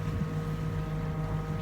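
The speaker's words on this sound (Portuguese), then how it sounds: "Ligamos o motor." A sailboat's motor runs at sea in the middle of the night while the boat heels, a steady low drone with a constant hum and light wind noise, nearby and unbroken.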